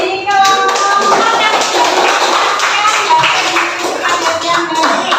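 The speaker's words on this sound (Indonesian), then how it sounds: "Kita beri aplaus dulu dari kelompok" Group of listeners in a classroom giving a round of applause for a presenting group, a dense steady patter of clapping lasting throughout, with some voices mixed in.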